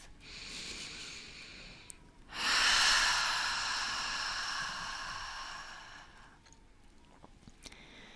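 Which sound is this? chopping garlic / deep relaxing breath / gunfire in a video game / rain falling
deep relaxing breath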